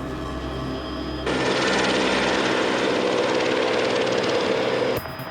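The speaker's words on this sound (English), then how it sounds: "the second helicopter's needed again" Police helicopter over North London, a loud continuous rotor and engine roar that swells abruptly after a quieter start and holds steady, with no talk.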